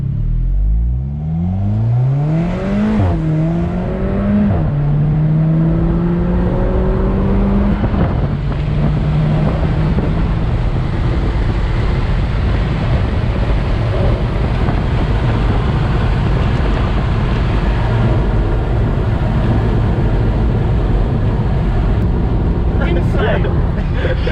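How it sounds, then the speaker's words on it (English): An Alfa Romeo 4C Spider at full throttle, loud and close, its engine note climbing sharply in pitch through several gear changes before settling into a sustained heavy roar. "This is my first proper experience, full throttle experience, in the Alfa Romeo 4C Spider."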